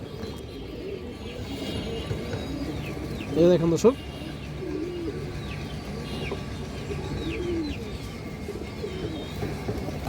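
A cream-eyed high flyer pigeon gives low, soft coos close by among other pigeons, with someone talking over the birds at moments.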